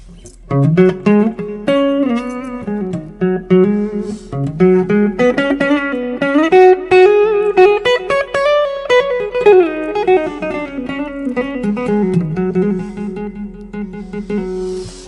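An electric guitar through a DiMarzio Super Distortion neck pickup plays a fast, distorted melodic line with bends and sustained notes, loud and close, running continuously.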